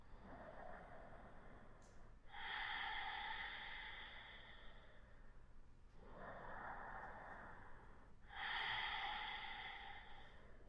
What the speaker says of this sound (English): Starting to make a little sound with your breath as the breath goes in and out.